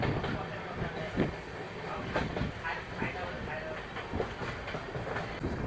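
The Dhanbad-Bhubaneswar Express (18404) rolls along, overtaking another train, with a steady rumble and repeated rhythmic wheel clicks heard from inside the carriage, while voices murmur faintly in the background.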